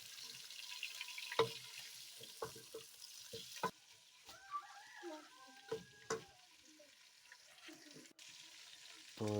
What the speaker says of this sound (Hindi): तो इनको अच्छी तरह से घी के साथ फ्राई कर लेंगे